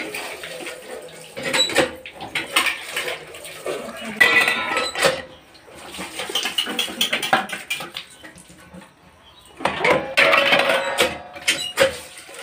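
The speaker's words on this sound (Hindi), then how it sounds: "थोड़े से बर्तन है मैं साफ कर लूँ" Dishes, pots and cutlery being washed by hand at a sink in a home kitchen in the evening, with irregular clinks, knocks and scraping in bursts over running water, close and fairly loud.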